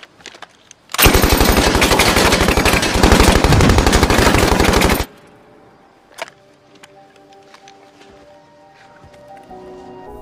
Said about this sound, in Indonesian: menunjukkan bagaimana cara menembak dengan benar